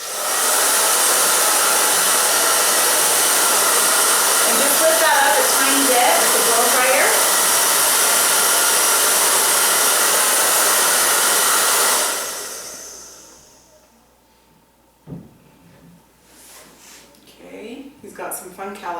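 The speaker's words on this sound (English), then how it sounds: "I'm barely going to start the blow dryer." A blow dryer roars steadily for about twelve seconds while styling a man's faux hawk haircut, then shuts off and winds down, leaving quiet with a few soft handling sounds.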